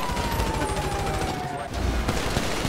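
Rapid automatic gunfire in the video game GTA 5 during a roleplay shootout, a dense burst of shots close up with mechanical clatter, continuous across the short stretch.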